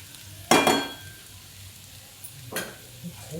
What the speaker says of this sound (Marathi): कमी गॅसवरच परतून घ्यायची